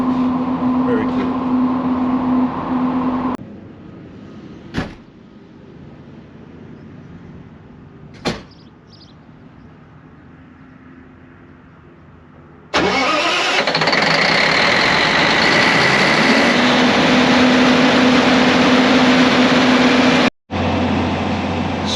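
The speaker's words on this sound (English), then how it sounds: "So the generator is on right now. Building is transferred over to it." A Caterpillar C15 diesel generator powers a building, its engine droning steadily at first, then falling to a quieter hum with a couple of sharp knocks before a loud engine roar surges back, with voices at times.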